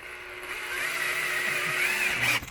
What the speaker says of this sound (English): So we've got a 10mm hole drilled through that bracket.